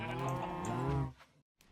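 A cow moos in the Minecraft video game with the Botania mod: one long, loud, low lowing call lasting about a second, then a short faint sound after a brief silence.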